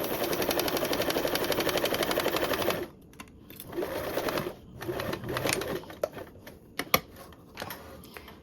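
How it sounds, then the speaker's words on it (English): Domestic sewing machine stitching a quarter-inch seam with the needle held down, a steady fast whirring run for about three seconds, then shorter bursts of stitching separated by brief pauses and small clicks. "I'm going to continue to sew with that 1/4"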